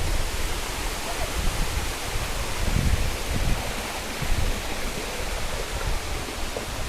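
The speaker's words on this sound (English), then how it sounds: "chilling at the very top of the waterfall" Kuang Si waterfall in the Laos jungle, heard from its very top: a steady, broadband rush of falling water that stays even and continuous throughout, with no voices over it.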